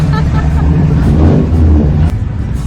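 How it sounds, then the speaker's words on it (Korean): Cars rumbling and accelerating along a busy street in the tourist town of Helen, Georgia, with a loud, continuous low engine roar and people talking over it. "굉장히 반응이 시끄럽네요. 자동차 소리가."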